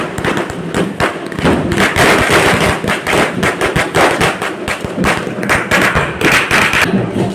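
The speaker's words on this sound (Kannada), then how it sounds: "ಪಟಾಕಿ ಮೇಲೆ ಪಟಾಕಿ ಹೊಡಿತಾ ಬಿದ್ದವ್ರೆ ನೋಡಿ ಇಲ್ಲಿ" Diwali firecrackers burst one after another at a village festival, a dense, irregular run of loud bangs and thuds, some close and some farther off, with faint voices underneath.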